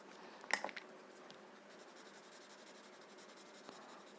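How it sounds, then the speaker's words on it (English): A pencil scratching across paper, a short sharper stroke near the start followed by faint, soft repeated graphite shading strokes, quiet and close. "So just use your pencil and just extend the graphite"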